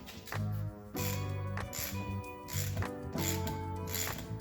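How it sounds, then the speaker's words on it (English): A Harbor Freight Icon ratchet clicks in quick repeated bursts of fine metallic ticking, several short runs with brief pauses between them, close and fairly quiet. "it's a pretty decent ratchet"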